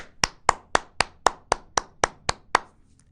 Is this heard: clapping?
yes